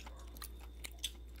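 Someone chews tough, chewy grilled makchang beef intestine, a few faint soft bites and wet squelches close up in a quiet room.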